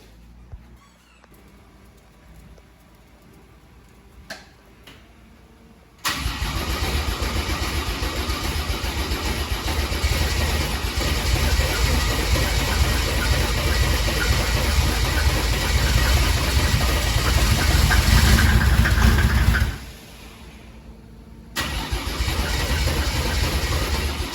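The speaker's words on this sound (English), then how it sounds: "So I'm going to hop in here and try to start it up" A Mercedes OM606 diesel engine cranks and fires at about six seconds, settling into a loud, steady idle that briefly drops off near twenty seconds before resuming, heard close with no talking.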